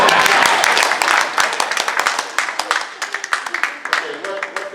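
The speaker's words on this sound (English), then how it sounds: "You can clap now." An audience at a talk on the Constitution claps. The applause is dense and loud at first, then thins into scattered individual claps over a few seconds.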